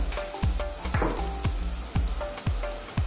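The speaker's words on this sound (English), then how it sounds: "Okay, the onion, chop, stir it." Chopped onion and garlic sauté in a pan for a Filipino menudo, giving a steady close sizzle with regular scraping thumps from stirring, alone without voices.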